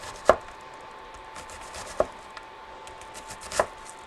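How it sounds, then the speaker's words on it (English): A knife finely dices an onion on a cutting board, giving three sharp, separate chops about a second and a half apart against quiet room tone. "a really simple way to dice that onion up really fine and tiny"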